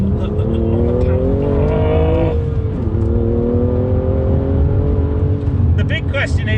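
A BMW M2 CS accelerates hard on a race circuit, its engine note loud and close as the pitch climbs steadily, drops at a gear change, then climbs again.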